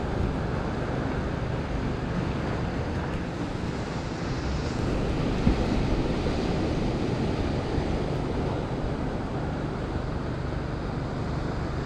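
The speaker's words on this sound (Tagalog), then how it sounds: "So malakas lang ang alon." Strong ocean waves at sea after a storm, a constant heavy roar of surf with wind buffeting the microphone throughout, no talking.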